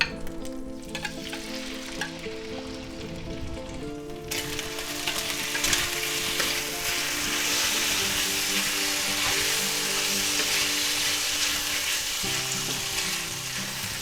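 Sliced marinated pork hits a hot pan for a lo mein stir-fry, and a loud, steady sizzle swells up and holds continuously, close by with no voices.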